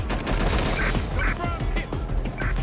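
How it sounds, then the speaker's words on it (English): Rapid gunfire in the Watch Dogs: Legion video game, a quick run of sharp shots fired one after another and dense throughout, with faint voice fragments mixed underneath. "I hear gunshots!"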